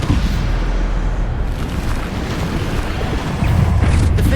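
Bombarda spell explosions in the video game Hogwarts Legacy, a dense, loud rumble of booming blasts with heavy low-end roar sustained throughout, swelling again near the end.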